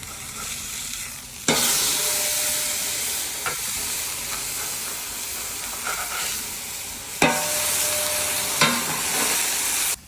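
Chicken smash burgers sizzle loudly and steadily on a hot griddle, the hiss surging with a couple of sharp spatula scrapes as the patties are flipped.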